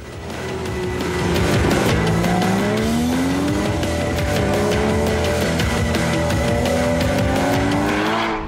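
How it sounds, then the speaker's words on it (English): A Porsche Cayman GTS's throaty sport exhaust revs loud and close, the mid-engine note rising and holding steady with a faint tire squeal. "stiffer mufflers and a sport exhaust for the throaty racing sound"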